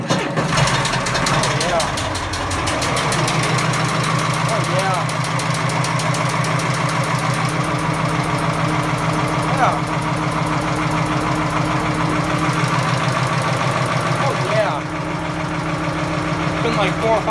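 Caterpillar 3208 diesel engine in a Caterpillar 328, cold-started after sitting for months, cranks over, catches and settles into a loud, rough, steady idle running the whole time, with a few short remarks from people nearby.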